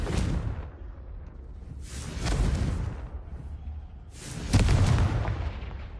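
Three deep, booming blasts from a Confringo blasting curse in Hogwarts Legacy roll out one after another a couple of seconds apart, each a loud swelling burst with a rumbling low end, the last one heaviest.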